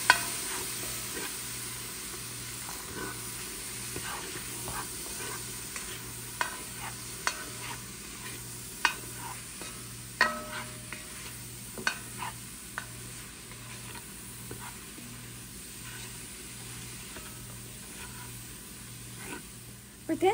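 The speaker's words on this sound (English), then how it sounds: "We're going to allow this to cook together for about 3 to 4 minutes." Lentil soup with vegetables cooking in a pot, a soft low sizzle running underneath while a spoon scrapes and taps the pot now and then in scattered strokes.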